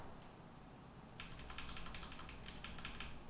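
Quick, light clatter of keys on a computer keyboard during setup of a Symfony 2.3 web project, faint at first and then a dense run of close keystrokes.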